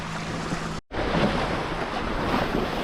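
Steady wind rush and waves washing against the hull of a Hobie Cat FX One catamaran sailing in a windy channel, loud and continuous with a brief dropout near the start.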